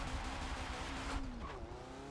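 Turbocharged car engine in Forza Motorsport 7, a steady loud drone with a shifting tone and a faint flutter toward the end, alone without voices.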